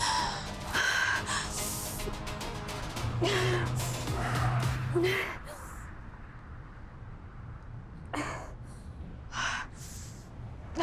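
A person gasps for breath during a panic attack in a drama series, with repeated sharp, close, ragged inhalations and heavy breathing over a low rumbling background.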